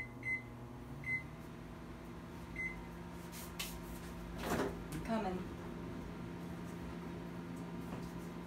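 A microwave oven hums steadily while cooking baking soda crumbles, with three short beeps near the start and a couple of soft door or cupboard knocks midway, close and fairly quiet.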